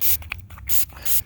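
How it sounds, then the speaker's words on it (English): A short hiss of spray paint marks the spot where a coin was dug up in a large peach orchard, three brief bursts separated by small gaps, close and moderately loud. "You spray it a little bit"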